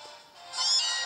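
Meowth cries from a police station crowded with the Pokémon in the video game Pokémon Sun, a couple of bright, rising meows, the second one louder and drawn out, heard on their own.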